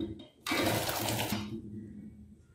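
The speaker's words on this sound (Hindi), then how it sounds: "पानी को ड्रेन कर लेंगे।" Hot salted water from boiled sweet corn gushes out in one loud pour lasting about a second, then quickly trails off to a faint trickle.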